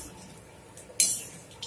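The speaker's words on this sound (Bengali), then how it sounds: "এবার আমি বড়াগুলোকে একটা প্লেটে তুলে রাখছি।" Crisp fried fritters are lifted onto a plate: a quiet stretch, then one sharp dish clink followed a moment later by a softer second clink.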